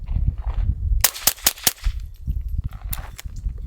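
A suppressed rifle dumping its magazine in quick succession, about six muffled cracks in a rapid burst after a rumbling outdoor background, followed by a couple more scattered shots.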